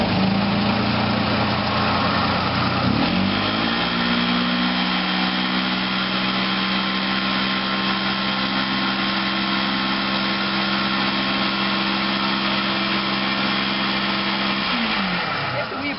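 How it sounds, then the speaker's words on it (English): Carpet cleaning sprayer applying cleaning agent to a carpet, a steady loud mechanical whir and hiss running continuously throughout, with a low motor drone that shifts pitch briefly near the start and end. "We apply the cleaning agent with our sprayer."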